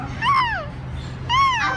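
A voice imitates a sad dog whimpering in two rising-and-falling whines, close and clear, with a short pause between them and a low background hum.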